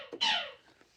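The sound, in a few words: electric guitar single string plucked with pitch slide, heat ray effect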